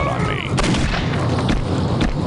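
Repeated weapon fire in the video game Postal 2, loud booming gunshots in quick succession with a voice talking over them.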